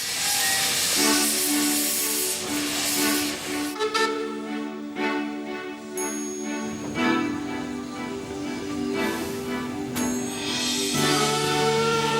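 Bundy, a small-gauge Australian sugar-cane steam locomotive, sets off with loud hissing steam and shifting whistle-like tones over chuffing, close and continuous for several seconds.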